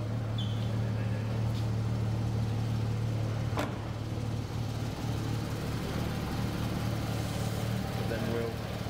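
A deep, steady Ginetta sports car engine idle rumbles continuously at close range at a track day, with a faint voice murmuring over it.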